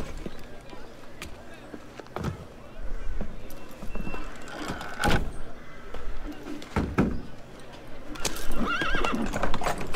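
Horses in the game Assassin's Creed Unity whinny and clop, with hoofbeats and neighs rising and falling over several seconds alongside game noise and people talking.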